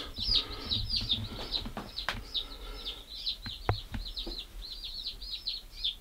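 Day-old chicks on a homestead, including Welsumers, peep in rapid, high-pitched chirps, many overlapping and close, with a few soft knocks and rustles in the box.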